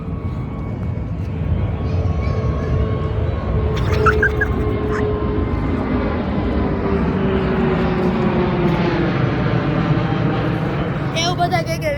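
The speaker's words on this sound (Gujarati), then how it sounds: "ઓય ઓય ઓય ઓય ઓય વિમાન." Airplane passing overhead near an airport, a loud sustained engine roar and rumble throughout, with excited voices talking and calling out over it.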